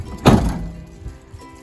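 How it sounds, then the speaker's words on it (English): A van door being shut, one loud close thunk near the start, followed by a faint rattle and quiet background. "Let's go ahead and close the door."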